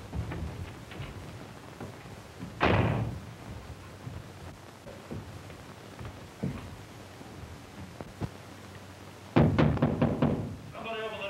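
Fists pound on a door in a 1934 adventure serial, a thud early on and a rapid burst of knocks near the end, with voices talking in between.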